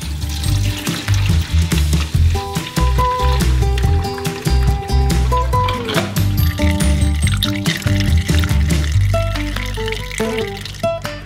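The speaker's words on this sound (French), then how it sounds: "Vous pouvez le verser sur le tamis dans le seau." Orange juice and pulp pour from a full bowl onto a sieve set over a bucket, a loud, continuous splashing and gurgling with knocks and clatters close by, running for about eleven seconds.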